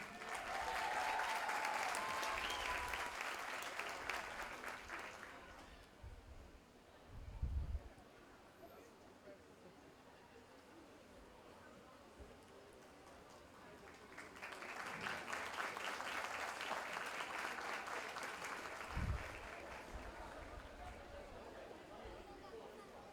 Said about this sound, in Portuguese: Mais aplausos para o nosso ministro, para o nosso reitor, Valdir Menezes